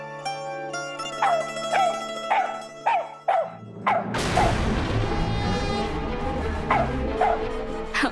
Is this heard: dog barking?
yes